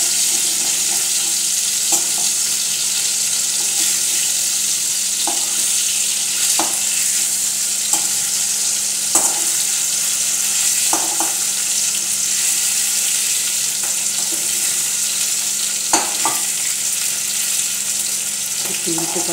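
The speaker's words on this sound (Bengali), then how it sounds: "মশলাটা একটু কষছে।" Spice masala sizzles and crackles with pieces of fish in a hot pan, a loud dense frying hiss with occasional stirring clinks and no talk.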